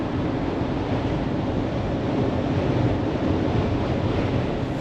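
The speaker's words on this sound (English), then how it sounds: "Didn't notice it until now, but it's pretty windy actually right now." Gusty wind buffets the microphone outdoors beside a van whose loose hood flaps, a steady loud rumbling roar with no pauses across the whole stretch.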